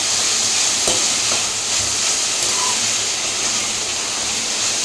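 Onion and tomato sautéing in a pan for a mutton dalcha gravy, a close, continuous sizzle with scraping stirring sounds and a few soft knocks of the spoon against the pan.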